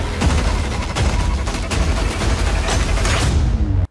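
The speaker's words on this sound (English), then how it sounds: "looks like they're showing off the Argus shotgun a little bit" Black Ops 3 Zombies Argus shotgun fire and mechanical clacking in a dense, loud burst of game action, booms and metallic clatter layered over each other before cutting off abruptly.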